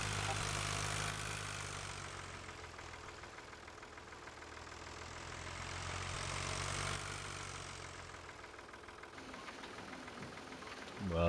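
A tractor engine idles steadily in the Farming Simulator 2013 video game, a continuous low rumble with slight swells in intensity, no talking over it.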